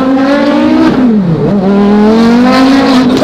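Porsche race engine revving hard with a shrill, buzzy, straight-piped tone reminiscent of an old V10 F1 car, a loud, continuous wail that dips in pitch mid-way before climbing again, close and alone.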